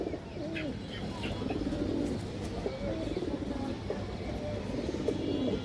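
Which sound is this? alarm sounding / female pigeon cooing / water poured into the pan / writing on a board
female pigeon cooing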